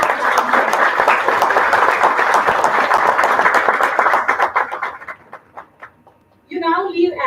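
Audience at a college of management studies degree ceremony breaks into dense, loud applause that holds steady for about four seconds, then thins into scattered claps before a voice starts speaking over the hall.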